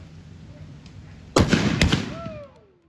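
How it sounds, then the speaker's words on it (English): Muskets fire in a skirmish at a historical reenactment at Fort Mackinac, two sharp loud reports in quick succession over outdoor crowd noise, with a whistling tone trailing afterward. "Head skirmishers, commence firing."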